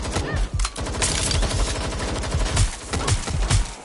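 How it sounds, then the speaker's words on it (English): Sustained gunfire in the video game Watch Dogs: Legion, dense rapid shots overlapping in a continuous loud barrage close to the listener. "I'm under fire!"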